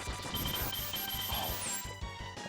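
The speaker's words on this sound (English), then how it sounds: "that glass breaking noise is so good" Glass shatters in a SNES video game, a bright crash ringing through a steady game soundtrack for a couple of seconds, with no voice over it.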